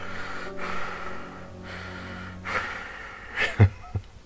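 A voice imitates Michael Myers's heavy breathing: slow, raspy, drawn-out breaths, close to the mic, ending in a louder snorting gasp.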